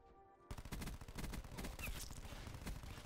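Rapid automatic gunfire from the enemy team in the shooter game Black Ops 4, a dense sustained burst of overlapping shots that starts abruptly after a short quiet moment and continues loud to the end.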